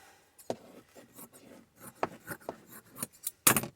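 Scissors snip through vintage fabric scraps, several crisp cuts at irregular intervals, close and clear with rustling cloth between them.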